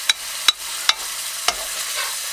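About a tablespoon of garlic frying in a pan for sesame chicken with veggies, a soft sizzle broken by four sharp utensil scrapes and taps against the pan.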